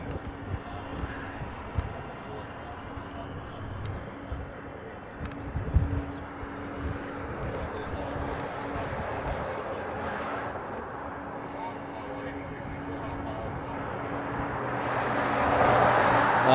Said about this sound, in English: The A380 is on its move down Bravo. It's going to head down to the reef runway.